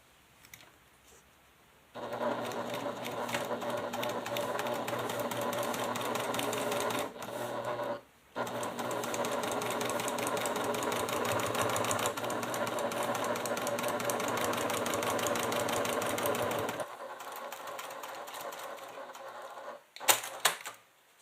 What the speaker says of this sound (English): So I'm just going to keep on stitching.